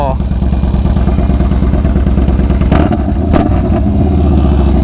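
A Yamaha Bolt motorcycle engine revs loudly and up close, with a throbbing low idle pulse and sharp throttle blips, heard alone without talk.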